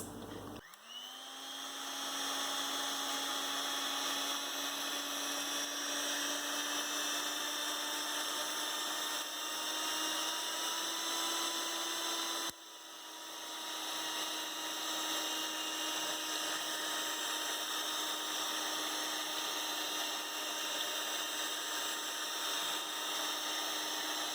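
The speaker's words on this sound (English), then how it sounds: "I am just gonna go ahead with my hand mixer and whisk this for about 5 minutes" A hand mixer whisks cold whipping cream, a loud, steady high-pitched whine that starts abruptly and holds for over twenty seconds, with one brief dip midway and no talking.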